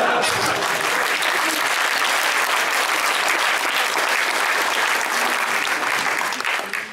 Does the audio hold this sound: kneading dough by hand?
no